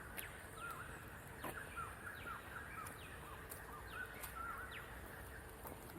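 Short chirping bird calls repeat in quick clusters within a nature park near a quarry, fairly close and clear above a constant buzzing insect background.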